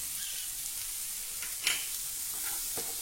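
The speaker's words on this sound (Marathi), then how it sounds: "आता हे सर्व आपल्याला व्यवस्थित परतवून घ्यायचं आहे." Carrots and peas fry with garam masala, coriander powder, turmeric and tomato in a pan, giving a steady, moderate sizzle with one sharp stirring scrape and a few lighter ones.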